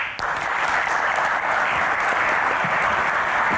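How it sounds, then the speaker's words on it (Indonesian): An audience applauds at a live Q&A event as guests are welcomed on stage. The clapping is dense, steady and full from start to finish, with no break. "Tepuk tangan lebih meriah lagi"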